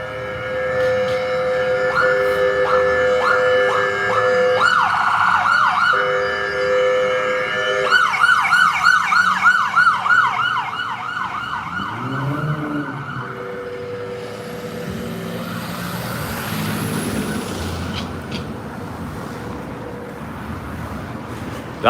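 An emergency vehicle siren wails with rising and falling tones amid evening city traffic, loud and close at first, then giving way to engine rumble and street noise as other siren bursts sound nearer the end.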